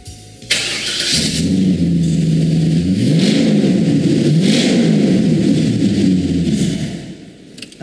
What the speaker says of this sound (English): Just have a listen to the engine note on this.